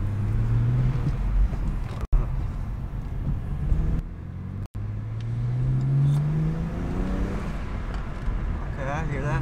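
A BMW 335i with a new charge pipe and upgraded turbo intake pulls hard on a road test drive, its engine note climbing through the revs in two rising sweeps with a gear change between, loud and close from inside the car.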